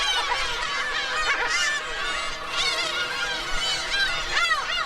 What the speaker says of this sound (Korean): 괭이 갈매기의 천적인 맹금류가 나타났군요.